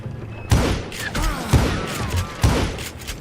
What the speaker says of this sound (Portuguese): Eu não acredito que eu errei. 4 tiros pra acertar esse cara.